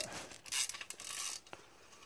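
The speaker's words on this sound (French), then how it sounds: "on change la douille pour défaire le collier de serrage" A ratchet socket wrench loosening the hose clamp on a Scorpion Red Power exhaust, giving quick, faint clicking pawl bursts and metallic rasps in a short run of turns.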